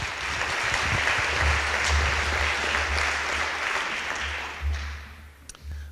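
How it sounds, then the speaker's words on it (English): A school celebration crowd applauds award winners in forensic science, astronomy and geology, a broad even wash of clapping that thins out toward the end, with a low hum underneath. "give one more round of applause for these Science Award winners"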